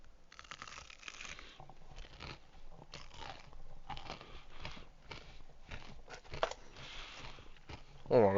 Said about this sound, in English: I'm also eating some falafels.